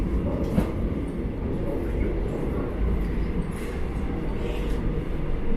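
Inside a moving local commuter train in South Korea, a steady loud low rumble of wheels on track fills the carriage, with faint rattles and no clear talking.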